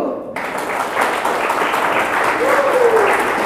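University students in an Indonesian language class clap together at the end of a lecture, a close, dense round of applause with some faint voices mixed in.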